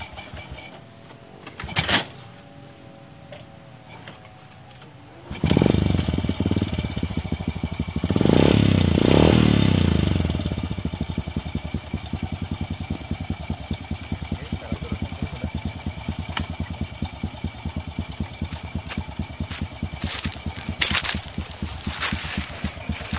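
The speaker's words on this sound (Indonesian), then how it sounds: "kita tinggal menghidupkan motor ya" A motorcycle engine starts with a burst, revs briefly, then settles into a steady close idle with a rapid ticking clatter.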